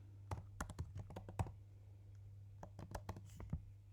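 Someone types on a computer keyboard in two quick bursts separated by a short pause, crisp close clicks over a low steady hum.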